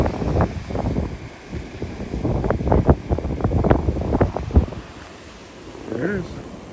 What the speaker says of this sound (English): And the wind's blowing.